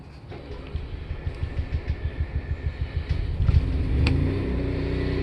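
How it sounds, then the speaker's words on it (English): RV generator on a 2017 Jayco Melbourne 24M cranking over in a quick rhythmic series of pulses, then catching and settling into a steady, loud running hum. "what I'll do real quick is I'll start the generator"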